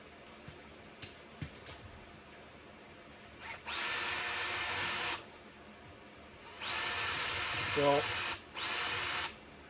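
Power drill boring out a hole for a Polaris Ranger OEM side mirror, two sustained whining bursts of a few seconds each after some small handling knocks, a brief stutter between them, and a short spoken word near the start.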